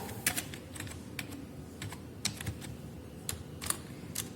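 Computer keyboard keys tapped while C program code is entered, in short irregular bursts of crisp clicks over a low background hum.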